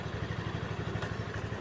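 An Easyride 150P scooter fitted with an NMAX pulley and clutch lining runs on a test drive, giving a steady, close, rhythmic engine putter with quick regular pulses and no talking.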